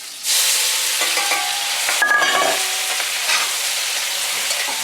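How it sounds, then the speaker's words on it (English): Bok choy and tomato hit hot sesame oil in a wok and break into a loud, sudden sizzle. It holds as a close, bright hiss with light stirring clatter and stays steady to the end, with no voices. "Bok choy tomato stir fry."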